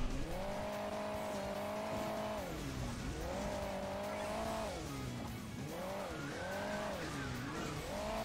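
A motorcycle engine in the mobile racing game Hill Climb Racing 2 revs up and down in repeated swells, a steady, close drone with no talking.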